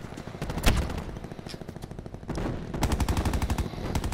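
Rapid automatic gunfire rattles in Call of Duty Black Ops 4 Blackout Ground War, with dense bursts of close shots, a brief lull, then sustained fast firing.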